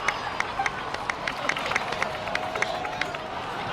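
A crowd applauds in the video game Genshin Impact, a steady run of scattered claps with some cheering, moderately loud and continuous throughout.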